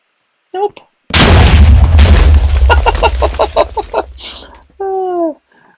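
A TNT blast in a video game erupts as a loud boom with a heavy low rumble that decays over about three seconds. Short vocal-sounding bursts come just before and after it.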